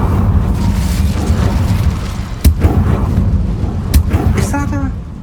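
A fiery blast from the Incendio spell in Hogwarts Legacy lands with two sharp, loud bursts amid a rumbling low background, the second followed by a short crackling tail.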